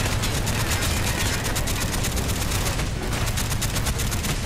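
Gunfire in Call of Duty: Black Ops, dense continuous automatic shooting that stays loud and close throughout, rapid shots in a steady rhythm.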